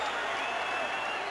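A boxing arena crowd at the Ricardo Mayorga vs Fernando Vargas fight cheers and applauds on its feet in a steady, dense roar with no break.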